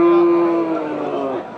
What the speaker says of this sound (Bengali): এক জোড়া মিডিয়াম কোয়ালিটি ষাঁড় গরু।